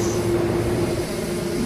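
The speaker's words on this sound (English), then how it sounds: "That's just the wind blowing into our rudder." Wind pushes against an aircraft's rudder in the X-Plane 12 flight simulator while it sits with the parking brake set, giving a loud, steady rushing rumble with a faint low drone and no talking.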